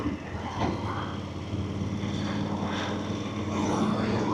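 A VOGE DS900X adventure motorcycle engine runs after starting, a steady low drone heard from a little distance, with faint shifting swells in its tone.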